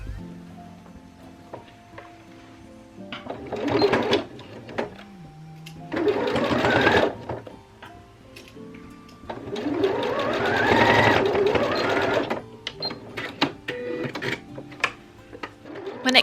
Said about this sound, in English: pin those together, and we're going to sew it together from widest to narrowest.